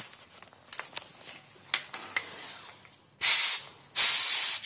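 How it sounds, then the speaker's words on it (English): Compressed air at about 30 psi from a small compressor hissing out of a faulty Mazdaspeed 6 wastegate actuator diaphragm, two loud close bursts of roughly half a second each after quieter handling clicks. "air blows completely out of the bottom of the diaphragm here"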